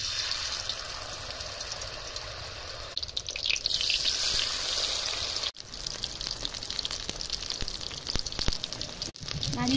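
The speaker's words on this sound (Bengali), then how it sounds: "এবার আমি তেলে দিচ্ছি, দেখো" Batter-coated pumpkin flower fritters sizzling in hot oil, a steady close hiss that swells and crackles louder as they go in, with a few sharp breaks in the sound.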